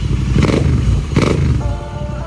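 A motorcycle engine with a freshly changed spark plug churns and runs close by, loud and rough, with two bursts of revving before settling into a steadier idle.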